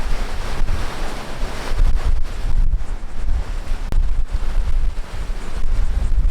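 Strong wind buffets the microphone on the rocky Charleston shore near Fort Sumter, with waves washing in behind it, a loud, continuous roar that surges and dips without any talking.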